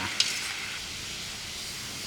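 Soaked split mung beans simmer in a pot of water over low-to-medium heat, giving a soft, steady bubbling hiss with one small pop at the start and no talking.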